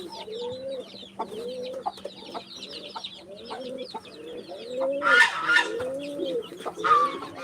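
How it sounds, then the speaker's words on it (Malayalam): A native hen clucks in a steady run of low calls while her chicks add thin, high peeping over the top, close by, with a brief burst of louder squawking. "നമ്മളെ നാടൻ കോഴിയും കുഞ്ഞുങ്ങളും"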